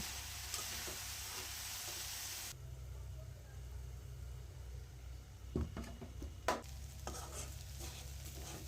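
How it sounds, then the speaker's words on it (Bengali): Vegetables frying and being stirred in a pan, with a steady soft sizzle under intermittent scraping and clinking of a utensil against the pan, faint and close. "কড়ো করে ভেজে নেব এভাবে নেড়ে চেড়ে ভাজিটা হয়ে গেছে"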